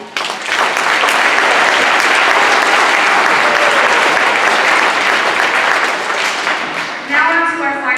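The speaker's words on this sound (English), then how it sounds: "We could give them a round of applause." A school band concert audience breaks into loud, sustained applause for the band's helpers, swelling and then fading, with a voice speaking at the end.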